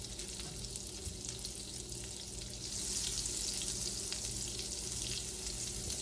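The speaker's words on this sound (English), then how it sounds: "So we're going to use another flat pan for this as a sizzling plate. We'll add 2 tablespoons of butter." Two tablespoons of butter melting and sizzling in a flat pan used as a sizzling plate, a close, steady frying hiss that grows louder midway and carries on without talk.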